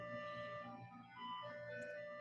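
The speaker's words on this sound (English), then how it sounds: "Can you hear an ice cream truck?" An ice cream truck plays its jingle, a faint steady melodic tune in the background that carries on throughout.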